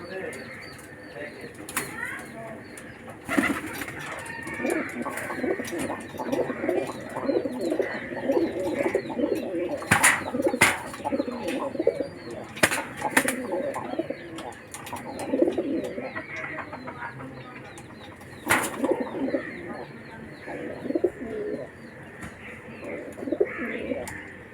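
Freshly bathed pigeons coo steadily in a dove house, with soft chirps and a few sudden bursts of wing flapping, while a voice speaks now and then.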